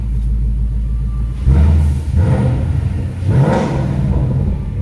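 A 2019 Ford Mustang 5.0 with an MBRP exhaust in track mode rumbles at idle, then revs up sharply in several throaty bursts with a loud, deep exhaust roar.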